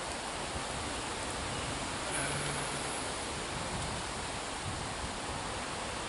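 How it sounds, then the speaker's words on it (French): Steady broadband wind roar buffeting a microphone outdoors, a continuous rushing rumble with no talking. "Un petit coup de vent, je ne sais pas si le son va être bon."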